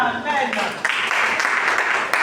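A church congregation breaks into a burst of applause after a voice leads the worship, the clapping rising quickly and continuing as a dense patter mixed with voices.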